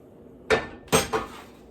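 A heavy metal pan set down and handled in a home kitchen before making maple candy: three sharp, ringing clanks, fairly close, in an otherwise quiet room.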